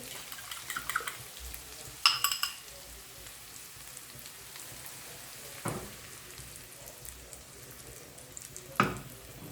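Eggs frying in olive oil in a pan for a potato omelette, a steady soft sizzle with a few sharper crackles and spatters, close by, with no talk over it.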